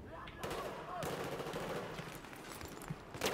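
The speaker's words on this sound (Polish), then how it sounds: "puściłem mu salwę pocisków" A salvo of automatic gunfire from the Battlefield 4 video game: dense, rapid cracking bursts rattle almost continuously at moderate loudness, with a few sharper reports near the end.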